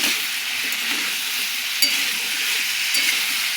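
Papaya curry in a pan sizzles steadily while it is stirred, with faint scraping strokes and a couple of brief clinks, heard close up.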